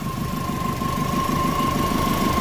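A Subaru Forester engine idles steadily after a fuel leak repair, a close, even mechanical chug with a soft rhythmic pulse and a thin constant whine riding on top, no voices.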